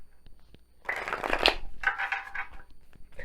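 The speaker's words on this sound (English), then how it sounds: "Let me get that one more shuffle." A deck of tarot cards is shuffled close by, a brief crisp riffling burst followed by a second, softer flurry of card flicks and rustles.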